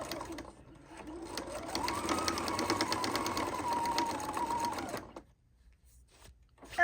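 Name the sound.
sewing machine back stitching tote bag strap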